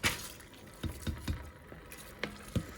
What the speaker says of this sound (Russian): в целях экономии времени я наливаю крутой кипяток и щедро солю воду